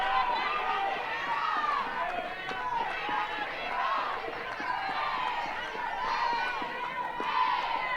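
A stadium crowd at an Oklahoma State versus Baylor college softball game cheers and shouts in a continuous, lively roar of many voices with scattered whoops, holding fairly even energy throughout.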